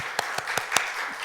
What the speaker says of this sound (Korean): 우리 박수로 격려했으면 좋겠습니다